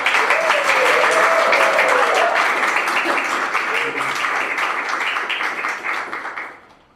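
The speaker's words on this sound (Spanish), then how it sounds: "Un aplauso, por favor." An audience at a panel discussion on improvisation in the performing arts breaks into sustained applause, dense steady clapping that holds strong for several seconds before tapering off at the end.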